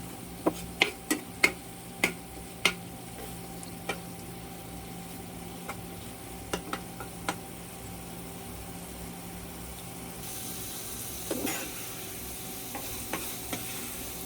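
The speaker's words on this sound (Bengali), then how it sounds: "এখন ভাজতে থাকবো মাছগুলো কষানোর সাথে।" Loitta fish fries with spice masala in a pan under a quiet, continuous sizzle, punctuated by a cluster of sharp utensil taps early on and a few more later, with no talk.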